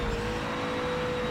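Nissan Z GT4 race car engine held in fourth gear in Project Motor Racing, a loud steady droning engine note with a sustained high whine throughout.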